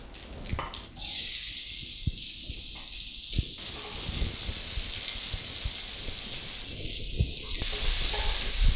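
Onions dropped into hot oil with reddened urad dal for semiya upma: a sudden loud hiss that settles into a dense, continuous close sizzle.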